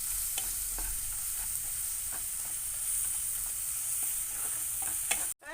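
Maggi masala powder being stirred into noodles in a hot pan, a steady close sizzle with repeated scraping stir strokes throughout, loud and continuous with no voices.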